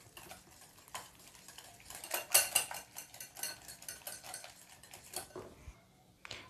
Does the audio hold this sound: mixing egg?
yes